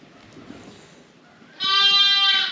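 Lambs and sheep on a farm, in a pen at feeding time, let out one loud, sustained bleat close by, rising from a quiet murmuring background of the flock.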